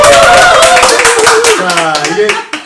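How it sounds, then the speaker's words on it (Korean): A studio audience claps briefly, with speech heard over the clapping during a Korean talk show segment welcoming a pastor guest. "박수!"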